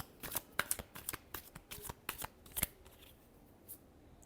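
Tarot cards are shuffled close up in a quick series of crisp riffling flicks and snaps. The shuffling slows and tapers off toward the end.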